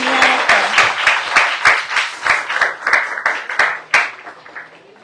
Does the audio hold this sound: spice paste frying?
no